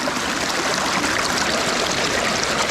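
Steady broadband rush of water flowing through a Pennsylvania mountain stream, constant and close with no voices.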